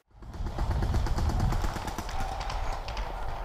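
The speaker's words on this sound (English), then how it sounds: "It's time to do some precision shooting with some first strike rounds." A Rap4 paintball marker shooting First Strike rounds, heard as a fast, loud burst of closely spaced shots that keeps going for several seconds.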